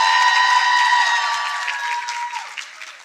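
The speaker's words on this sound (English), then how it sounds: "Can we have a round of applause for them?" Audience applause for a university choir at a conference, a dense wash of clapping with tonal ringing, starting strong and gradually thinning out over about three seconds.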